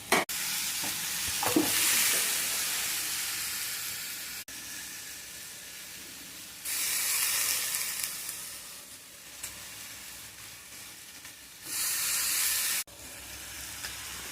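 Cauliflower and potato are stirred into masala in a hot pan, with a close sizzle that swells and fades in bursts as the pieces are turned, plus a few scraping knocks.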